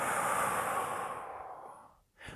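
A long, steady breath blown out through the mouth during a belly-breathing exercise, a broad airy exhale lasting about two seconds and fading away, followed by a brief soft breath at the end.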